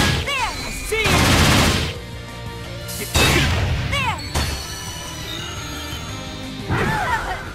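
Gunfire bursts in the Dark Rose Valkyrie game, loud sharp blasts in two dense clusters with brief gaps between, mixed with impact crashes and background game music, with character voice effects heard at moments.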